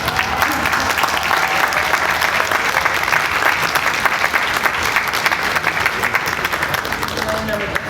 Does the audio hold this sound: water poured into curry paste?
no